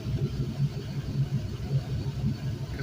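A 5.3L LM7 V8 engine idles on a test stand, a low, even, rhythmic rumble with a steady throb, moderately loud and alone.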